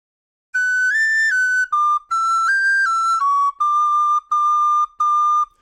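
Descant recorder playing a short phrase of the fiddle tune Soldier's Joy, clear and close, with a string of distinct tongued notes, the last few repeated on the same pitch, and no talking.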